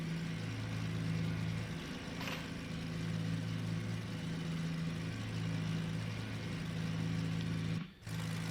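A Beech BE60 Duke twin piston engine runs at a steady idle in the FSX flight simulator, a constant droning hum with a brief dip near the end and no speech.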